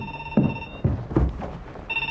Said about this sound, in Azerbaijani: Ha, telefon səsi.